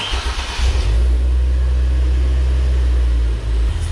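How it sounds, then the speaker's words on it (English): A supercharged 3.8 Genesis Coupe with active exhaust valves closed sends out a loud, steady, deep engine rumble, close by, with a light rise in revs and no talk. "now I will rev the car a little bit"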